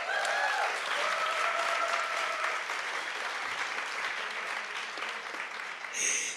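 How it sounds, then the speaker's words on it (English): Audience applause for conference panelists, steady and sustained clapping from a room full of people, fairly even in loudness, with brief scattered tonal sounds near the start. "Shall we give them a round of applause?"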